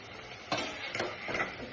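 Flattened rice (poha) tipped into hot frying oil, sizzling under a few quick stirring scrapes that come in three short bursts, close and fairly faint.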